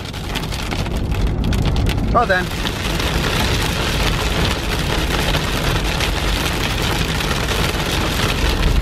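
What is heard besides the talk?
heavy rain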